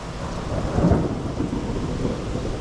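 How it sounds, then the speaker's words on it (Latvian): Thunder rumbles through steady heavy rain in an Alpine mountain setting, a low swelling roll peaking briefly then settling under a continuous broadband downpour, close and fairly loud with no talk. "Jo baigais lietas sākās un pērkons, zibens."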